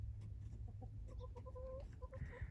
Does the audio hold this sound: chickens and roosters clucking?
yes